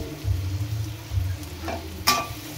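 Spices with tomato and green chilies stir-fry in a pan, a low steady sizzle with a soft scrape of stirring and one sharper clatter near the end, no voices.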